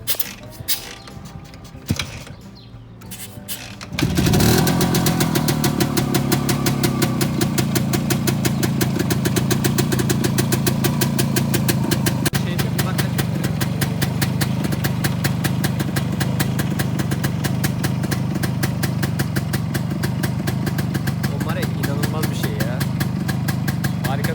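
A 1978 Planet 3 motorcycle is kicked over a few times, then its single engine catches and settles into a loud, steady idle with an even mechanical patter that runs uninterrupted to the end.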